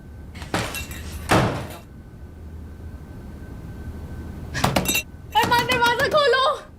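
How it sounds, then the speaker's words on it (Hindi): Knocking on a closed door in a Mumbai crime drama scene: a few sharp thuds close by, with quiet gaps between them, then a voice calls out over low background noise. "अरमान दरवाजा खोलो"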